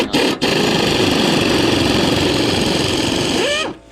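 A power tool runs steadily on the 10mm bolts holding the fuse panel of a 2002 GMC Yukon XL with the 6.0 engine, a loud, close, continuous motor whir lasting a few seconds before winding down and stopping.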